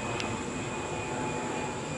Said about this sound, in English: And the airplane went away